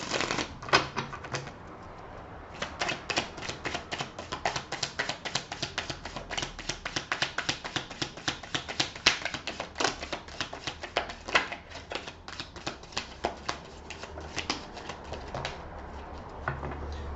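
Tarot cards being shuffled produce a rapid run of crisp riffling snaps and flutters in uneven bursts that continue close up throughout, with no talking.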